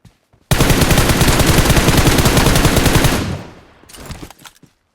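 Loud, close automatic gunfire in the video game PUBG, one unbroken burst of rapid shots lasting about three seconds that then fades, followed by a few softer scattered sounds.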